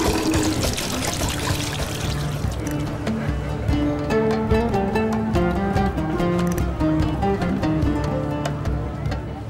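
Water pours and splashes at a public street fountain in Fez, Morocco, a loud continuous flow near the listener, while someone speaks over it and faint musical tones run in the background.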